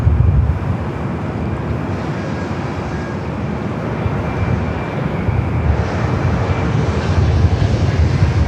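Airliner arriving at LAX on the north side runway 24 right, a steady loud jet engine roar with wind buffeting the microphone, continuous throughout without talk.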